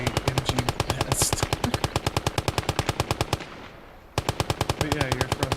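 Rapid, steady bursts of machine gun fire from an MG nest in the WWII game Call to Arms Gates of Hell Ostfront, loud and close, briefly pausing before the hammering rhythm resumes.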